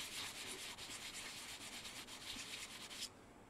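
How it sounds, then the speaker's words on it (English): Sandpaper rubs over a carved stone seal in steady back-and-forth strokes, a soft, close scratchy hiss repeating for about three seconds before stopping, with no talk. "make it a little polished with a sandpaper"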